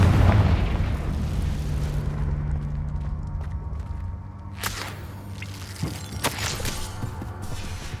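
Confringo blasting-spell explosions in the video game Hogwarts Legacy: a heavy booming blast with rumbling low end opens, followed by sharp whip-like cracks and bursts around the middle and later, loud and close, with no talking.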